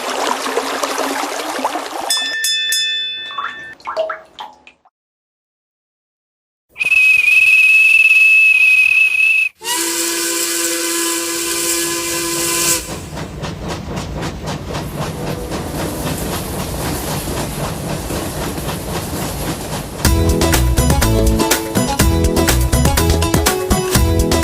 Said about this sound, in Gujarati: આ રેલગાડી જૂના જમાનાની છે